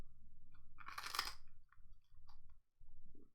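Someone chews crunchy homemade food close to the microphone, with one loud burst of crunching followed by quieter, intermittent chewing over a low background hum.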